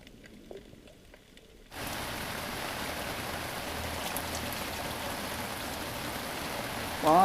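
Heavy tropical rain pours down around a sailboat in the Virgin Islands. After a quiet opening, the steady hiss of a downpour starts abruptly and holds loud and even to the end.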